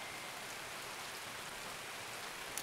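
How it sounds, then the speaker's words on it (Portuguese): Steady rain in the Escape from Tarkov video game, a dense continuous hiss of falling drops at moderate level, with no voices. "Sem contar que ali viu o barulho da chuva"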